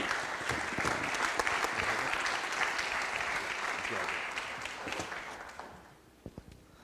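An audience claps steadily at a city council meeting in Fresno, a dense wash of applause filling the room for several seconds before tapering off to a few final claps, with faint voices murmuring underneath.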